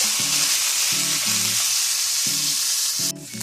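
Ground beef with Worcestershire sauce sizzles loudly and steadily in a skillet, broken by repeated stirring strokes with a few short tonal clinks, until the sound drops away abruptly near the end.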